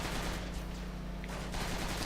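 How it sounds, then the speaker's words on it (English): Muffled gunfire and combat noise from the Transformers: Rise of the Dark Spark video game, a steady dense wash of shots held low and dull throughout, with no clear speech on top. "in gameplay, when characters are talking, the gunfire and the combat becomes muffled."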